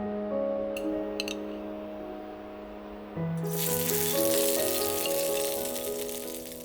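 Shrimp fry in hot oil in a non-stick or seasoned pan or wok, a loud, steady sizzle that surges when the shrimp go in, with a low tonal hum beneath and brief clinks early on.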